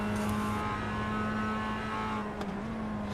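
Race car engine from the iRacing sim at Indianapolis, a steady droning tone held throughout, dipping briefly near the end as if easing or shifting, close and continuous with no talk.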